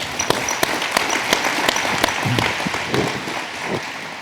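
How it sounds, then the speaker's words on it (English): Applause from an audience at a college counseling workshop, a steady patter of many hands clapping with a few sharper claps standing out, continuing throughout at moderate volume. "Little round of applause for Andy."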